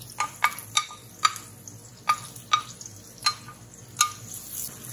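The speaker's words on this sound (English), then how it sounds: "And stir fry for 1 minute." Onions and peppers stir-frying in a little vegetable oil with sesame oil, for beef japchae noodles: a steady low sizzle under repeated sharp scraping clicks of a utensil against the pan, about nine taps spread evenly, near and moderately loud.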